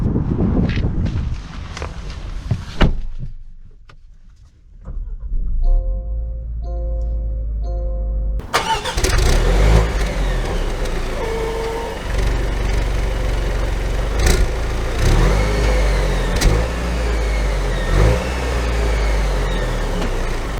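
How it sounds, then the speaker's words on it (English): 2022 Range Rover Velar R-Dynamic S, its engine starting with a brief crank and catching, then a steady low running drone as it pulls away, with a few sharp knocks along the way. "So we are setting off here in the Velar."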